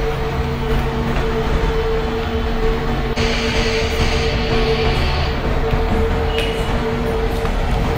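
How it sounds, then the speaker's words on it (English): A passing train rumbles steadily on the opposite track in the MSTS train simulator game, with a sustained mechanical drone and faint tonal hum, louder and brighter halfway through. "Another one train is coming on the opposite track. It's a train number 12876, Nichal Superfast Express."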